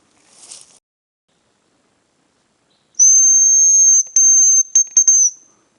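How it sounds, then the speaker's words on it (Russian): High, thin whistled notes of hazel grouse: one long steady tone, then several shorter clipped whistles in quick succession, close and clear against silence. "вон, свистят, где отзываются рябчики. Так свистят, но не подлетают."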